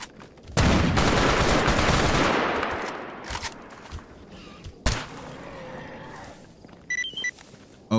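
Heavy gunfire in S.T.A.L.K.E.R. GAMMA: a dense, loud burst of automatic shots that rolls off into scattered single cracks and a few sharp later reports, with no talk over it.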